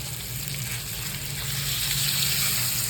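Ground onion and chili paste hits a hot frying pan and sizzles with a continuous bubbling hiss that swells slightly louder toward the end, and no one speaks over it.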